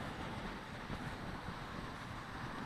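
Outdoor breeze buffets the microphone in a steady, dense rumble and hiss that fills the whole stretch, with no other clear sounds above it.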